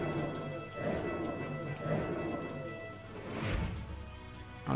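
Steady game rain hisses through a Banner of the Maid battle at the siege of Toulon, with rumbling thunder-like swells and a low boom near the end, all under a layer of battle music.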